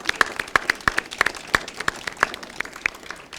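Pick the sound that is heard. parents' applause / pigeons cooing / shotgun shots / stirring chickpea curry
parents' applause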